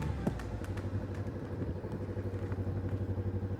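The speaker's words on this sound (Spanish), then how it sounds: "Sí, no hay prohibición de motos, vamos en moto" A motorcycle running on a muddy off-road dirt track, its engine a steady close pulsing drone with a slight rhythmic flutter and faint clatter, no talk.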